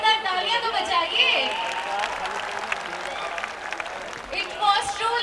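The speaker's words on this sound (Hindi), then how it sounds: "अगर प्रस्तुति पसंद आई हो तो एक बार जोरदार तालियां तो बजाइए" Audience applause and cheering after a performance at a college cultural fest, a dense crowd clapping steadily for about five seconds with brief swells near the start and end, with voices mixed into the noise.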